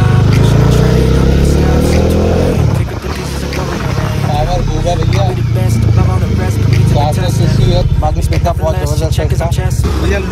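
A used motorcycle at a bike market in West Delhi has a noisy chain. Its engine rumbles and idles loud and close throughout, while people talk over it.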